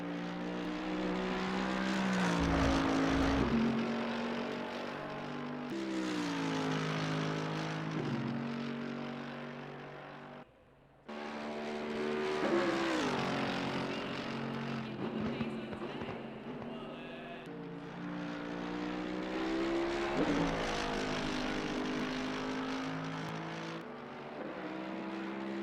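A Ferrari GT race car engine in Assetto Corsa Competizione, revving up through the gears in repeated rising sweeps with brief drops at shifts, loud and steady, while a commentator talks over it.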